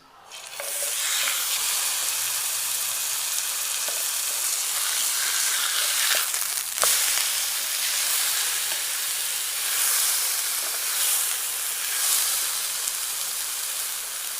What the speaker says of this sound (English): Let's listen to the sizzle.